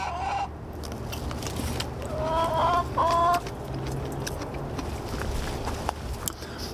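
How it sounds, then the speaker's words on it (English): A chicken clucks a few times at mid distance in a farm orchard during a late-spring apricot and sour cherry harvest, short harmonic calls rising above steady outdoor background noise. "the chicken actually is making noise."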